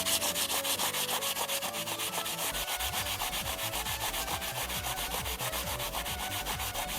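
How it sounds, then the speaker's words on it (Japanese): A new tire brush scrubs a white-letter tire on its own, with no cleaner, giving a loud, steady back-and-forth scratching in a fast, even rhythm that runs throughout, near and with no speech. "このホワイトレターを新品のタイヤブラシを使ってどうなるかっていうところですね。"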